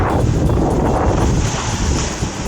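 Strong wind roars steadily against the microphone while fishing over choppy water, loud and low, with rushing gusts and no voices.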